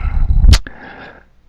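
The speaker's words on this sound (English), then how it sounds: "You hear them barking? They're angry." Angry dogs give one sharp loud bark with a quick yelp after it, over low growling rumble that fades into quiet.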